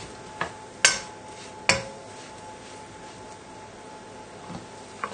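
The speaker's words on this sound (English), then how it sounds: "Throw them in and give them a good mix around to get nicely coated with the butter." Bread cubes are tossed in a buttered pan, giving a few sharp clinks and scrapes of utensil against metal over a quiet kitchen background.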